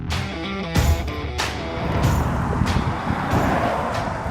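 A 2021 Mercedes-Benz GLE SUV on the move along a mountain road in the Dolomites, a steady, full road and engine roar with a few heavier thumps, close and continuous with no talking.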